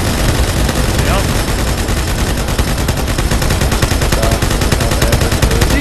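Dense, loud automatic gunfire in a Halo 2 custom game, rapid continuous bursts layered over one another, with voices talking over the shooting.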